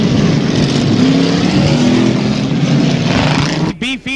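A race car roars loudly and steadily at close range on its victory lap after a main event at a dirt track, with a race announcer's voice breaking in near the end.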